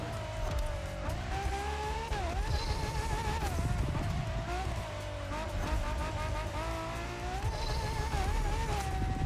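A Ferrari LaFerrari engine drives in The Crew Motorfest, droning steadily and loud, its pitch rising and dipping through gear changes and throttle shifts, with faint tire noise and skids layered underneath.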